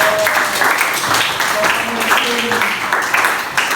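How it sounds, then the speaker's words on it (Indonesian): A classroom group claps for group 4 after its presentation, a short burst of fairly close applause from a small audience, with some voices mixed in. "Kita beri tepuk tangan pada kelompok 4."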